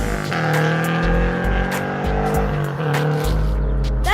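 Exhaust note of a Subaru BRZ fitted with unequal length Tomei headers: a loud, steady boxer engine drone with a lumpy, uneven burble, rising and falling slightly in revs throughout, close to the tailpipe with no talk.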